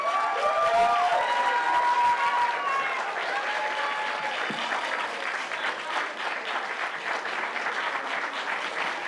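A retirement party audience bursts into loud, sustained applause with some cheering, opening with a few high whoops and shouts before settling into a dense, even roar of clapping that continues to the end.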